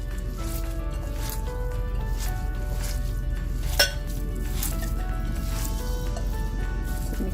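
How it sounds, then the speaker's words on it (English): Fingers squish and knead ground pork meatball mixture, giving close, wet, sticky squelching sounds with an occasional light clink against the bowl. "I'm going to use my fingers here and make sure all of the ingredients are incorporated into the pork"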